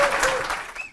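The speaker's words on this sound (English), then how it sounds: "So please give a very warm round of applause for Sue Hitzmann." An audience at a talk claps in a brief, dense burst of applause that fades out within a second.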